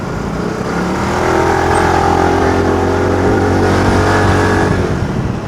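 Modenas Elit motorcycle riding through Kuala Lumpur night traffic, its engine droning steadily and rising slightly in pitch as it accelerates, loud and close with wind rush and surrounding traffic noise, no talking.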